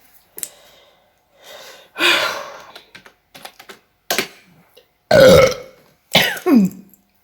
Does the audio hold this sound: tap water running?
no